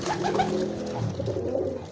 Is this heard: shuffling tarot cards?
no